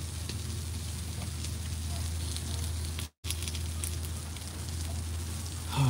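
Fish searing in a hot pan with olive oil, giving a steady close crackling sizzle that runs throughout with a brief dropout near the middle.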